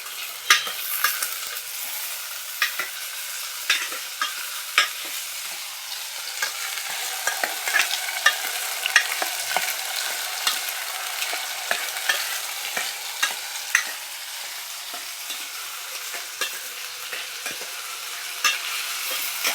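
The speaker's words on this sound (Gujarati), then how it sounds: "હવે આપણે રીંગણા બટેટા નાખી દીધા છે। હવે ચમચાથી હલાવી લેશું।" Brinjal and potato curry frying in a pan is stirred with a spoon, a continuous sizzle punctuated by regular scraping clacks, close and loud, with no voices.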